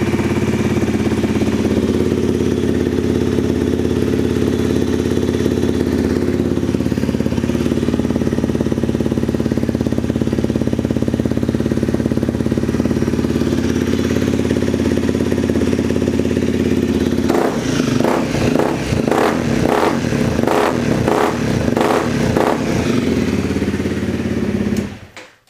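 A Honda CRF250L motorcycle with an FMF Q4 exhaust idles steadily with a low, throaty rumble, then blips through a series of quick revs near the end before cutting off.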